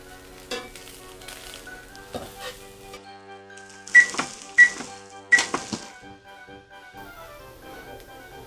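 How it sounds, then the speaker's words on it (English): Corned beef browns in a pan with a soft, steady sizzle, broken by a few sharper clatters and scrapes of utensils against the cookware. "You just want to get the corned beef to be a little bit brown."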